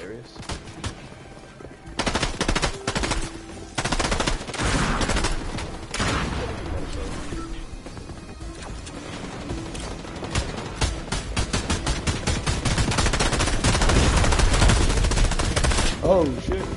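Sustained turret machine-gun fire in the Fortnite video game, loud and nearly continuous bursts of rapid shots filling the whole stretch, growing heavier toward the end.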